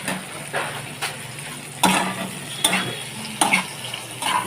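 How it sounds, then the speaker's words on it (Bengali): Masala for an egg curry stir-fried in a pan, a low sizzle broken by several sharp spatula scrapes and knocks against the pan at irregular intervals, close and without talk. "আমি কষিয়ে নিচ্ছি।"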